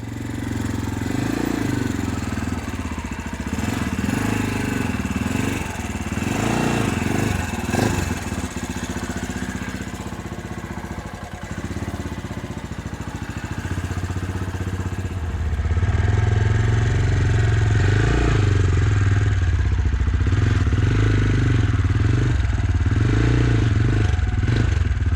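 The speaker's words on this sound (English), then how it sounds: "I'm going to walk this motorcycle up the ramp" A running motorcycle is walked up a ramp into a SylvanSport GO camper trailer: a steady close engine drone with some clatter throughout, swelling louder and rougher in the second half as it climbs.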